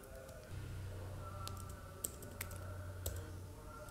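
Soft typing on a computer keyboard, a few faint scattered key clicks over a low steady hum, with no voices.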